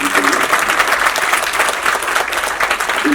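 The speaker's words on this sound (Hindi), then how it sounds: "जोरदार तालियां" Loud, dense applause from an audience at a foundation-day cultural arts event in Shimla, sustained clapping filling the whole stretch without a break.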